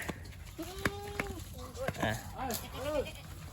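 Goats, including a bottle-fed one, bleat repeatedly at close range, a sustained cry early on followed by shorter quavering calls, with some light rustling and steps.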